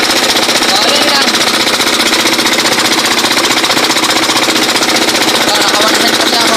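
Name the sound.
farm machine engine running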